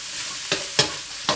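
Beef and celery stir-frying in a wok, a steady hiss broken by three sharp scraping tosses of the spatula, close and fairly loud with no voices.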